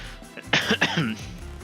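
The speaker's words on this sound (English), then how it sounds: "Still got that cough I've had for weeks now" A single close, harsh cough in two quick bursts, loud and raspy, with quiet room noise before and after.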